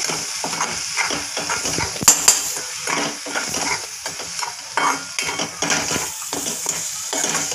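Spices are stirred into cauliflower and peas in a pan, with a spoon scraping and clinking against the metal in quick irregular strokes over a faint sizzle, close and without talk.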